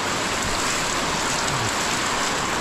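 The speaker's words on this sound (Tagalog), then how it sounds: "Lakas ng ulan, ha?" Heavy rain pours down steadily around a Yamaha NMAX scooter, a dense, constant hiss of drops drumming on surfaces, loud and close throughout.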